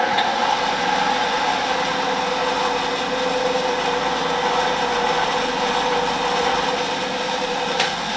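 A grinder takes a little off a metal hex fitting during a brake build, a steady continuous whine held at an even level throughout, close and alone.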